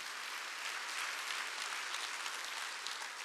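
Steady, even applause from a church congregation during a Wednesday worship service, a dense wash of clapping heard quietly and at a distance with no voices over it.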